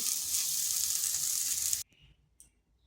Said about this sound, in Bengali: করলাগুলো এইরকম ভাজতে হবে, একটু লাল লাল হালকা।